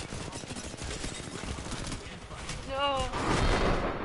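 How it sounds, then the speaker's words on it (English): Video game gunfire crackles in dense, rapid bursts throughout, with a louder volley near the end, while a voice speaks over it. "Getting shot at. Opening fire on our prey."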